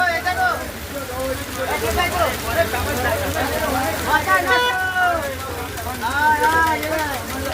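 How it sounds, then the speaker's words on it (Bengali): A heavy monsoon-style downpour pours steadily and loudly, a constant wash of rain, while a voice talks over it throughout. "এত মুষলধারায় বৃষ্টি হচ্ছে"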